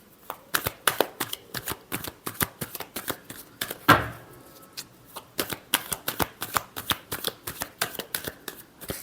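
Tarot cards being shuffled close up, a steady run of crisp riffling flutters in quick succession with a brief louder slap near the middle, no talking.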